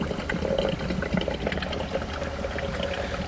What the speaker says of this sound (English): the heat exchanger has failed, and it's leaking into the draft fan